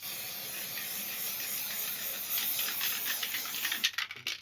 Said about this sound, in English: I'm going to quickly spray it